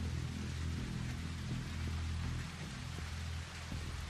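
Steady rain in the video game The Walking Dead: 400 Days, a constant hiss with a low rumbling undertone, with no voices.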